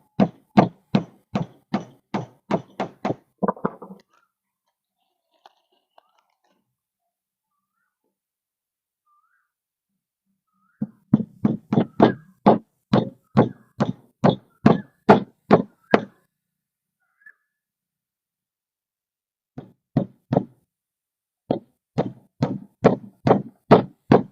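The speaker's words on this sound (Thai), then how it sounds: "เดี๋ยวเราจะทำการตอกตะปูยึด ยึดยึดหัวไว้เลยนะฮะ" Nails hammered into stacked sawn timber, struck in fast runs of sharp, evenly spaced knocks with short pauses between bursts, loud and close with no talk over them.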